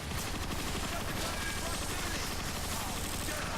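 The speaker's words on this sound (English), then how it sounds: "I know the X-18 Scrapmaker is not a very Megatron-ish weapon, but it is one of my favorite weapons in the game" X-18 Scrapmaker weapon firing in Transformers: Fall of Cybertron, a sustained rapid stream of loud gunfire mixed with crashing impacts, under a speaking voice.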